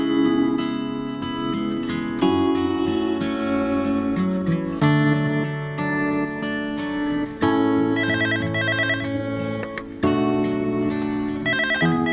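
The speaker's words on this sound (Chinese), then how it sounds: "不是老三的电话，是不是特别的失望？" An incoming-call ringtone trills in short bursts on top of steady, loud background music, with no talking.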